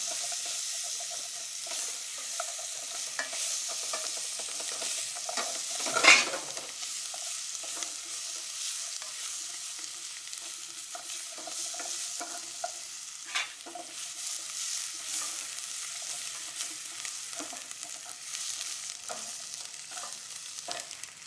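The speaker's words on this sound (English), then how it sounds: "And I'll use the moisture in this onion to clean up the bottom of the pan." Onion sizzling and being stirred in a pan after browning lamb, scraping up the glaze from the bottom; continuous soft frying with repeated spoon scrapes and one sharper clatter, no talking.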